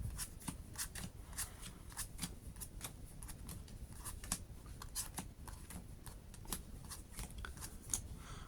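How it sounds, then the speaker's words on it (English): Yu-Gi-Oh playing cards tapped down one after another while pile shuffling, in quick, slightly irregular succession, a light rapid clicking with no talking. "we're pile shuffling"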